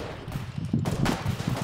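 Rapid bursts of gunfire in the online war game Foxhole, a dense run of close shots under battle noise.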